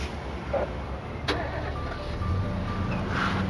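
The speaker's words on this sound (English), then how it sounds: "Several cars set out for the pizza parlor." Several cars setting out, with a steady engine idle underneath, a short sharp click or door thunk, and faint engine tones rising and shifting as the vehicles get moving.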